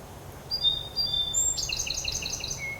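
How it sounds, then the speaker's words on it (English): A bird sitting in a tree sings a short series of clear, high whistled chirps, several quick notes in a row, fairly near over a faint low background hum. "Hear that bird?"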